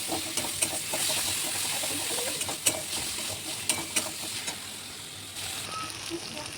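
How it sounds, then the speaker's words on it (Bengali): Spice masala paste with salt and turmeric sautéing in a pan gives a steady, close sizzling hiss, broken by occasional sharp clicks and scrapes as it is stirred. "ভালো করে মশলাটা কষিয়ে নেব।"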